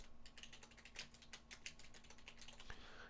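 Quiet, rapid clicking of keys on a computer keyboard, an uneven run of soft taps with no voices.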